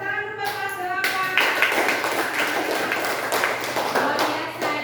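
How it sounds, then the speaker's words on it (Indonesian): A group of people clap their hands together after a classroom session, a dense, steady burst of applause that starts near one second and continues throughout, preceded briefly by a speaking voice. "Tepuk tangan dulu Bapak silakan."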